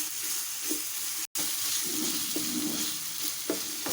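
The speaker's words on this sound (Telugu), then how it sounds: "అల్లం కూడా మంచిగా ఫ్రై చేసుకోవాలండి" Ginger frying in a pan of golden-browned onion paste, a steady close sizzle with soft stirring scrapes and a brief cut near the middle, no voices.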